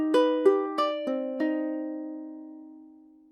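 A ukulele plays a short, spooky plucked riff, five quick clear notes in a brief burst, the last one left ringing and slowly fading into silence.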